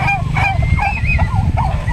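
Several turkeys gobble together in a loud, close flock, with warbling, honking cries rising and falling over a rumbling background.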